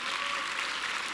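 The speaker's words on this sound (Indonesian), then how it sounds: "Tepuk tangan dong buat kita semua." Steady audience applause fills a business leadership seminar hall, moderate in volume and even in texture, with no voices over it.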